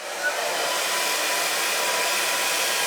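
Steady, loud whoosh of a hair dryer blowing continuously while straightening hair with bouncy curtain bangs, a constant airflow roar with no speech.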